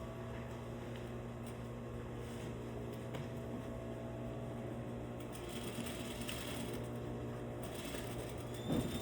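A sewing machine runs steadily, back-stitching a facing and collar onto a bodice, its motor whirring in an even, continuous drone with a slight rise in intensity toward the end.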